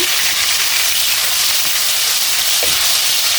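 Mustard paste fries in pure mustard oil for a mango pickle, giving a steady, close hiss and sizzle with a few faint stirring touches and no voices.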